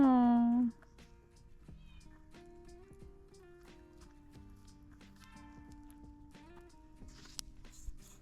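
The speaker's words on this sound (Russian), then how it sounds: "Кошка мяукает там." A cat gives one loud, close, drawn-out meow at an outdoor campfire. Quieter voices and background sounds follow.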